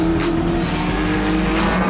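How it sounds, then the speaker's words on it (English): A Lotus GT race car at Sandown in the Australian GT Championship, braking through a twisty section, its loud engine droning close with tire squeal and gear-change surges, no speech. "That Lotus is so good on the brakes."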